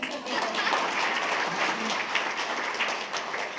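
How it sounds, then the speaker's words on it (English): Applause from the audience at a school district board meeting, as a speaker is welcomed to the podium: steady, fairly loud clapping from a crowd in a meeting room, continuous throughout, with a little voice murmur mixed in. "It's okay to applaud."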